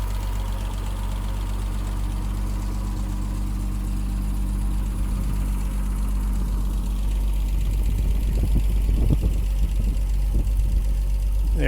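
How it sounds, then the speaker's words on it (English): A 1973 Triumph TR6 engine idles steadily and close by, a continuous low rumble with a faint knocking pulse throughout, growing slightly rougher toward the end. "A little bit of video with the engine running."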